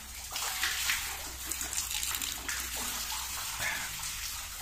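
Water gushes hard from a freshly drilled borehole well, a loud, steady splashing torrent like a filling bathtub, close by and continuous.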